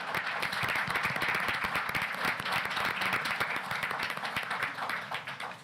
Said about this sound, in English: Would you give our kids a big round of applause?